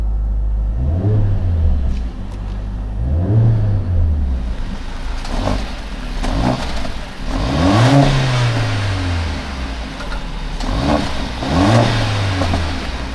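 A 2021 Mercedes-AMG GLA 45 S 4MATIC+ starting up, its engine rising in a series of revs that swell and fall back, with small exhaust pops along the way, loud and close.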